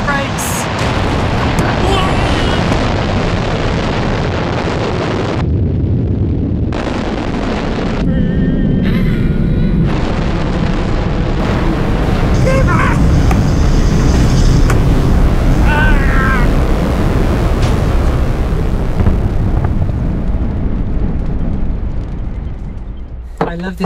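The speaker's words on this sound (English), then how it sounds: "Engines are thrusting, just gonna release the brakes!" Rocket engines thrust at launch with a loud, continuous roaring rumble that persists for over twenty seconds, briefly dipping in places before building again.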